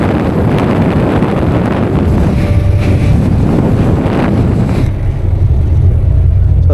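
Strong steady rush of air from an adjustable AC vent above a seat on a brand-new JJ Yatra Chennai–Tiruchendur bus, a loud broadband whoosh close to the listener that drops to a lower hum near the end.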